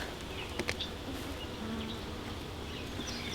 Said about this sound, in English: These bees look good. They're doing good.